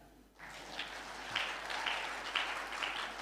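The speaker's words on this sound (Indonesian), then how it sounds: "Tepuk tangan dong." An audience at an Indonesian news site's first anniversary event claps in a short, moderate burst of applause that rises quickly and holds steady.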